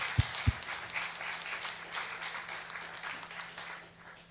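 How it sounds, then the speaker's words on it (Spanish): A church congregation gives a round of applause, a steady wash of many hands clapping at moderate distance after two sharp thumps at the start, with no voices over it. "Dale un fuerte aplauso a Él"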